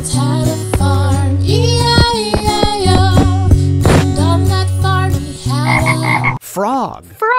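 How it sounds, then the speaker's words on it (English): Frog croaking in a children's farm song, repeated loud ribbit-like croaks layered over bright music and sung melody, close and dominant throughout. "frog. Froggy."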